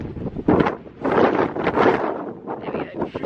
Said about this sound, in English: when you get to here, you realise how windy it is.